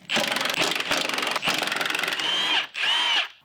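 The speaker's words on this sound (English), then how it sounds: "Let's take these 4 bolts off around the outside." A power tool whirs in repeated short bursts while removing the four strut tower bolts on a Mustang fitted with cheap adjustable eBay coilovers, with two longer loud runs near the end.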